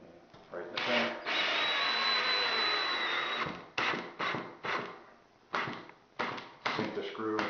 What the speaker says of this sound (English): Just get a screw on the end of your drill.